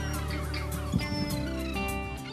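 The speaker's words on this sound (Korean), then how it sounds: "갈매기 떼들이 아드리아해 갈매기는 일로 다 모이는 것 같아요" A flock of seagulls crowds an Adriatic fishing harbour where boats return from dawn fishing and dead fish float on the water, giving a dense, continuous chorus of overlapping squawking calls close by.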